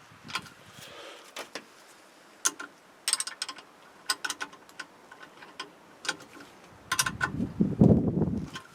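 A wrench turns a bolt on a plow, making scattered, irregular metallic clicks and ratcheting ticks at a fairly faint level, with a louder scraping burst near the end.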